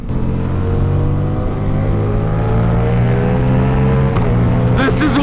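A Ducati Diavel V4 motorcycle engine revs loudly and close up, holding a thick droning growl with a slight pitch rise before a voice starts over it at the end.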